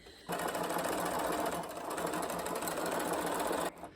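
A sewing machine stitching a doll's school dress runs in one continuous close whirring burst for about three seconds, starting and stopping abruptly.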